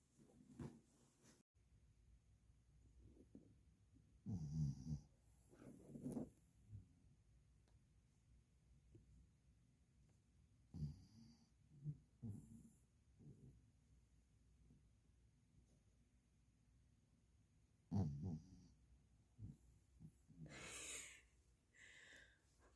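A sleeping dog snores in repeated soft, snorting bursts spread across a quiet room, with faint breathing between the louder snorts.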